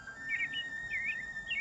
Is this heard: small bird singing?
yes